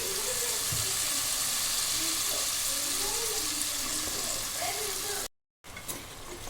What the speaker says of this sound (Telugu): ఇప్పుడు మనం వంకాయ ఆలుగడ్డ వేసుకుందాం